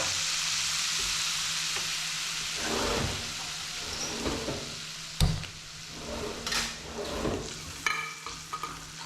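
Fish pickle masala with vinegar heats in a pan on the stove, giving a soft continuous sizzle broken by several louder stirring scrapes and clatters, close and moderately loud, with no talking.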